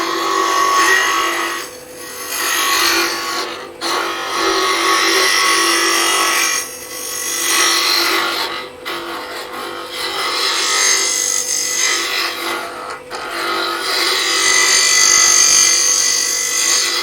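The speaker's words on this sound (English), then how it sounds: "we're going to start off with a scraper here, and we're just going to hollow that out" A scraper hollows a wooden egg cup on a lathe: loud continuous rasping, scraping cuts that come in repeated strokes with brief pauses between passes, no talk.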